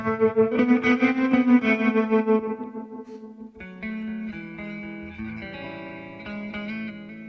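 Guitar played through a Fender Tone Master Pro effects unit, a distorted, chorus-tinged phrase of strummed chords giving way to a cleaner run of sustained single notes with light echo, loud and alone.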